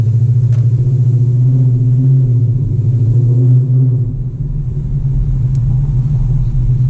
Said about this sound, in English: This car is so deep sounding, it's kind of funny.